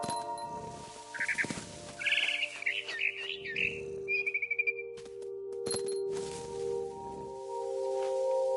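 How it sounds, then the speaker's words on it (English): A barn swallow chirps outside a window in What Remains of Edith Finch, giving several short bursts of high twittering over a quiet ambient hum, with a few soft clinks and thuds. "Then I heard chirping outside my window. It was a barn swallow going back to her nest."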